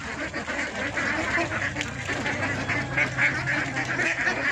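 A batch of about three-month-old ducks for sale quacks continuously as a flock, their overlapping nasal calls forming a busy, fairly loud chorus throughout.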